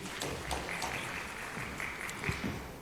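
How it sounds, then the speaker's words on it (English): Audience clapping for panelists at a fintech event, a dense, fairly soft patter of many hands with a faint sustained tone behind it. "Please, let's clap for them as they come through."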